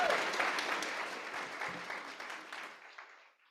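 Audience applause at an author event introducing romance writer Jasmine Guillory, a dense, steady patter of many hands that gradually fades out over a few seconds.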